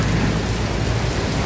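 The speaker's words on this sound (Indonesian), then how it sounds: "jadi di sini langsung turun hujan deras banget ya tuh." Heavy rain pours down over the Kali Baru river in Tambun, Bekasi, a dense, loud, continuous hiss and patter filling the whole stretch with no voices.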